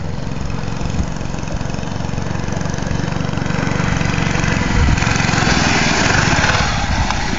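Mini bike engine running steadily at high revs before a jump, a continuous buzzing drone that stays loud and close throughout with slight surges toward the end.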